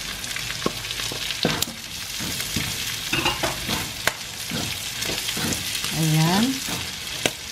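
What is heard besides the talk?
carrots stirred and frying in pan for Igado Ilocano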